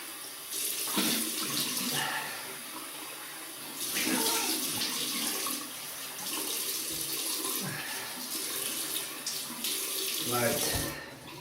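A water tap runs steadily into a sink while someone rinses off after a wet shave with a Muhle R41 double-edge razor, splashing and gurgling close by in repeated bursts, with no talking.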